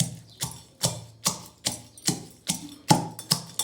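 Dried sukat fish pounded fine for chutney in a home kitchen: a steady run of about nine close, sharp thuds, evenly spaced and heard alone.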